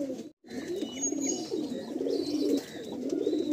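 Pigeons for sale in Kolkata coo in soft, rolling low phrases, close by and repeated, with a brief gap early on.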